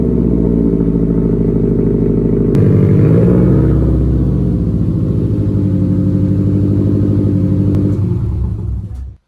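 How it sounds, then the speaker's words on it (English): A Subaru WRX STI with a Tomei single-exit exhaust and stock downpipe, the engine rumbling loud and close with a deep, steady drone that rises briefly before settling and cutting off. "I'm going to give you a before, and this is just with the Tome exhaust, the single exit, with the stock downpipe."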